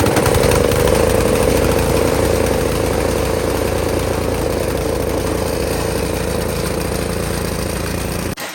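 A snowblower engine runs steadily and loudly at close range for several seconds, with a constant droning hum and no snow on the ground, then cuts off abruptly at the very end.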